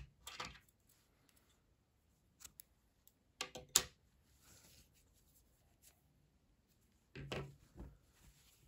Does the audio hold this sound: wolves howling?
no